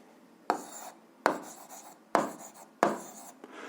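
A pen scratches out an eighth-grade algebra solution for a graph equation, with four short, crisp writing strokes spaced evenly apart, close and clear against a quiet background.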